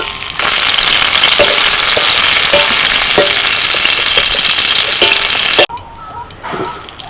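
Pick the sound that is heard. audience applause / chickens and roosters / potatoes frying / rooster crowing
potatoes frying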